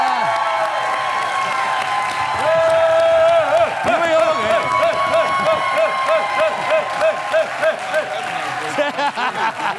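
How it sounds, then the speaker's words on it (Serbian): A studio audience on an evening talk show applauds and cheers for the home team, a dense steady roar of clapping and crowd noise with rhythmic rises as voices carry over it. "Zamolio bih publiku da da svoju buku za naš domaći tim"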